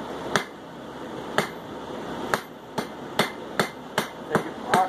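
Hammer blows ring out on a hot metal stem being cleaned up at the forge, about ten sharp, evenly spaced strikes, close and fairly loud, with no talk.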